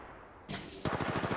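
Rapid automatic gunfire from the video game Apex Legends, starting as a burst partway in and then settling into a steady, loud stream of close shots that runs to the end.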